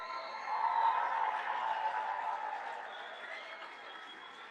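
Audience applause for honor roll and high honor roll scholars standing at a school gathering, a steady, moderate wash of clapping that swells early and then slowly fades over several seconds.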